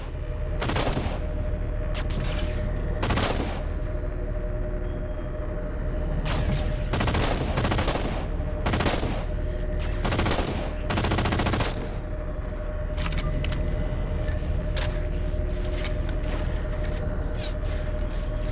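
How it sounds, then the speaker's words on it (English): Heavy gunfire rakes the starboard side of a ship in a Halo battle, loud bursts of rapid shots and impacts repeating in clusters over a constant mechanical hum, with brief quiet stretches between volleys. "Taking fire, starboard side!"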